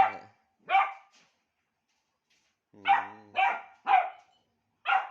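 A dog barks in a short series of sharp, fairly close barks, one pair at the start and four more after a pause, with no voices.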